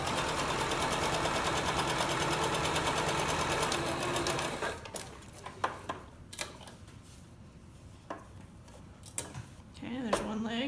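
A domestic sewing machine runs in a steady, fast whirring stitch while sewing the legs of reversible shorts together, then stops; after that come scattered clicks and handling noises, with a voice speaking briefly.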